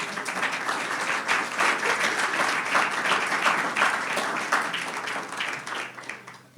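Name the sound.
applause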